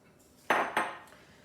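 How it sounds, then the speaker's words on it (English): Raw potatoes tumble into an empty plastic microwave steamer in a home kitchen, landing as two quick, close clattering thuds about a quarter second apart with a brief rattle after, and nothing else around them. "just dump the potatoes in"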